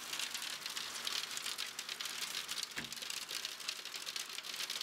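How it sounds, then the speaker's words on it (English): Hail falls in a heavy thunderstorm in Curitiba, Brazil, a dense, steady hiss of pattering and rattling ice on surfaces with one brief sharper knock, and no talking. "We're having a really heavy thunderstorm. Look at that hail."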